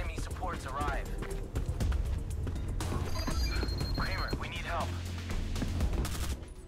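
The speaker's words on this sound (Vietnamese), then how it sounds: "À, súng tự động. Khá là hiện đại đúng không ạ?" Rapid automatic gunfire in the FPS game Black Squad rattles in dense bursts throughout, loud and close, with a voice talking over the shooting.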